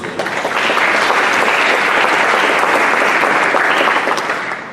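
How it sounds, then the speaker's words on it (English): An audience gives a loud, sustained round of applause for the superintendent at a State of the District address. The dense clapping swells quickly, holds steady, then tapers off near the end. "Let's give him another round of applause."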